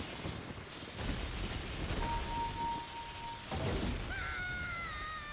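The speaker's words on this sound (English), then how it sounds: "Thunder came down and just fucking destroyed stone." Heavy rain pours over a thunder crash in the Nintendo 64 game Zelda: Ocarina of Time, with a dense low rumble building to a loud clap and rising tones near the end.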